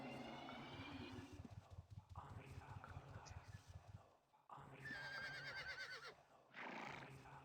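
A horse in the video game Ultima Online neighs and whinnies twice, loud and close, with hoof clip-clops and faint game ambience between the calls.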